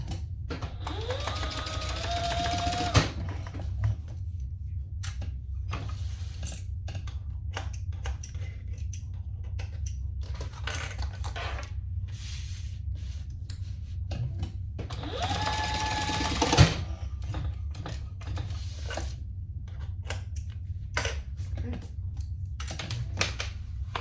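Sewing machine stitching handbag pieces in place, two short bursts of fast whirring near the start and again around the middle, with quieter handling noises and room tone in between.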